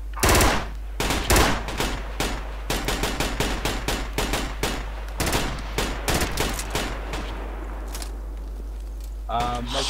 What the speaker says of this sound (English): Slow fire, keep firing.